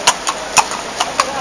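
Horse hooves clip-clopping on pavement while pulling a kalesa carriage at Luneta Park, five crisp, evenly spaced hoofbeats close by over a noisy outdoor background.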